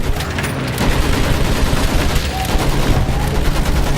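Sustained machine gun fire rattles through a World War I battlefield in Battlefield 1, a dense, loud barrage of overlapping bursts that runs without pause for the full stretch.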